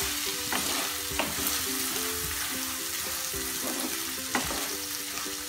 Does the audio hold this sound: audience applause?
no